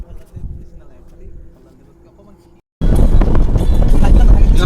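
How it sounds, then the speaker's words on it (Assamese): Wind sweeps over the Brahmaputra river near Dibrugarh before dawn. A quiet, low rumble gives way to loud, roaring gusts that buffet the microphone for the rest of the clip. "কি ধুনীয়া বতাহ মাৰি আছে নদীত।"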